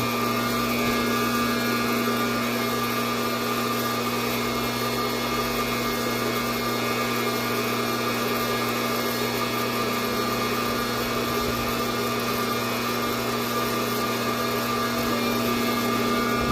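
A coffee roaster machine runs mid-roast with a continuous, even mechanical whir and hum, steady and fairly loud throughout with no talking.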